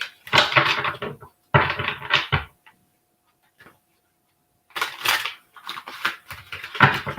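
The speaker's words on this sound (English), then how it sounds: "One more shuffle." Tarot cards are shuffled in short bursts of quick crisp riffling, two bursts, a pause of near silence, then two more.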